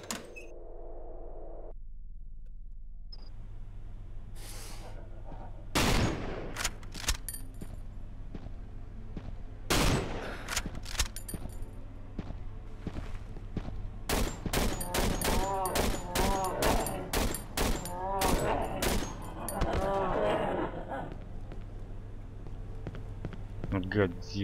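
Single-shot rifle fire in the horror video game Cry of Fear comes as a series of sharp, loud reports spaced irregularly, mixed with game sounds and someone talking in Russian between shots.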